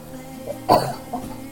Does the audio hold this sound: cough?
yes